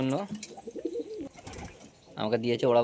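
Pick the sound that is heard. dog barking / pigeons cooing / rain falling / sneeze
pigeons cooing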